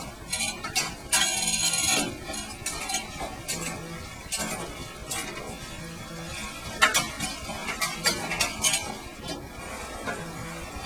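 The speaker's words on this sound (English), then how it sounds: "rotate the cranks backwards a little bit to get all that fresh lube working in there. And then I like to shift through the gears a little bit." Bicycle cranks turned backwards and the chain shifted through the gears after fresh chain lube, giving close, irregular metallic clicks, ticks and ratcheting rattles over about ten seconds with no talking.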